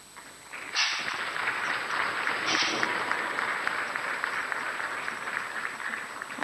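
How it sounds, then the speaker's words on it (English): Audience applause at Ghana's National Economic Dialogue 2025 opening, a sustained wash of clapping from a large crowd in a hall that swells after a soft start and continues steadily. "Another round of applause, ladies and gentlemen."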